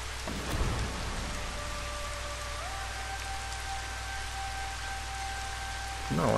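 Steady rain in the Final Fantasy XV demo, a continuous broadband hiss with a low rumble underneath, joined by sustained tonal ambience lines and a louder swell at the very end.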